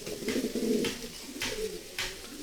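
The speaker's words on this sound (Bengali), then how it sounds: "প্রচণ্ড ডাকে ভাই, একদম অস্থির একটা লেভেলের কবুতর" A tagged pigeon pair calls loudly and persistently, repeating deep rolling coos in phrases about half a second apart, close and clear with no talking.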